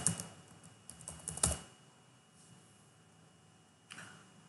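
Several quick keystrokes on a computer keyboard while a root password is set during a MySQL installation on Windows 10, a brief burst of clicks, then quiet, then one more faint keypress, close and soft.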